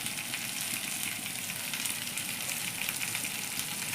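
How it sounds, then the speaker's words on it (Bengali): Pieces of bottle gourd fry in a pan with a steady, close sizzle and hiss that continues evenly throughout, with no talking. "আমার লাউটা প্রায় ভাজা হয়ে গেছে"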